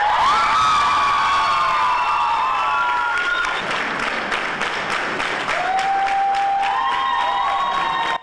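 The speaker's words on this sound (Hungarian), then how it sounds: "Taps és ováció fogadta a diákpolgármester nevének kihirdetését a gyulai diáknapok záró rendezvényén" Enthusiastic applause and cheering from a student crowd at the closing event of the Gyula student days, with whoops and shouts over continuous clapping while music tones sound underneath.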